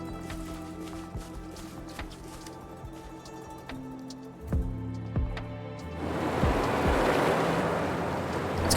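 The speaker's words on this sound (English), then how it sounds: "It's gonna drain that water." Water draining away in a video game, a broad rushing swell rising after a few clicks and thuds over a low ambient drone, growing louder and steady through the second half.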